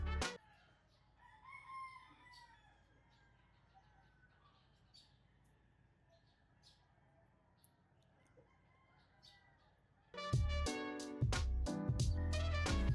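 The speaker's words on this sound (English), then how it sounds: "free write to the sound, to the orchestra of crowing roosters behind me." Several roosters crow outdoors at a distance, faint calls scattered through a quiet background before a loud, close burst of sound at the end.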